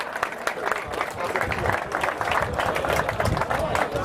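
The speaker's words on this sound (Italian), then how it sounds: "Un applauso davvero a tutti quanti." Audience applause fills a football gala for amateur clubs: a dense, steady crowd clapping that carries on for the whole stretch, with voices mixed in underneath.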